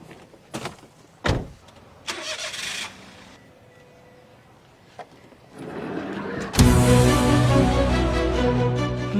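A car in a drama scene: a few thumps and clunks like doors, then a motor starts and a loud, steady vehicle rumble builds and carries on to the end.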